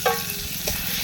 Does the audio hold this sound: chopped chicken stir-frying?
yes